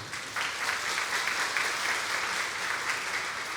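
A crowd at a business seminar in Seoul claps steadily for a few seconds, a dense patter of many hands at moderate distance, with no talking over it.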